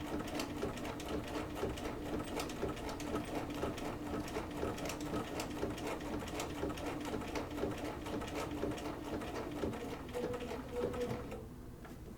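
A sewing machine stitching an appliqué poppy quilt, running steadily and close for about eleven seconds with a rapid even needle rhythm, then slowing and stopping near the end.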